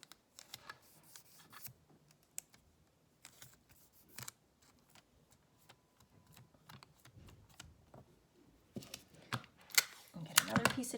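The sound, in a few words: tape pressed and peeled off a stamping plate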